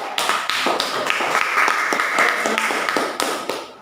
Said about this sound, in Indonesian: beri aplaus lagi untuk kelompok 2